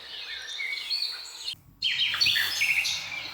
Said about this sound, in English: White birds chirping flying through the sky.